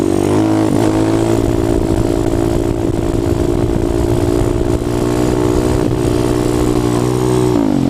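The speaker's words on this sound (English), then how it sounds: "get up in RPMs a little bit, test your rear brake, gun it, and just pull up" A motorcycle engine runs loud and close, held up in the revs at a steady high drone with slight pitch wavers, ahead of a wheelie; no voices.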